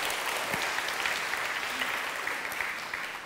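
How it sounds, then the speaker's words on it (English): A church congregation in Manila gives a brief round of applause, dense and even clapping that holds steady and fades slightly at the end. "Let's give him another clap offering."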